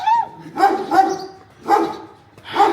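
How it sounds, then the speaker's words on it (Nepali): A dog at an old apartment in Kathmandu barks in four sharp, loud bursts spaced about a second apart, close by, with a short whine between barks. "डेडली कुकुर रहेछ"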